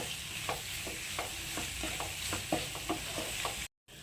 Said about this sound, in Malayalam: ഇഞ്ചിയുടെയും വെളുത്തുള്ളിയുടെയൊക്കെ പച്ചമണം ഒന്ന് മാറുന്നത് വരെ ഒന്ന് നന്നായിട്ടൊന്ന് വയറ്റി കൊടുക്കാം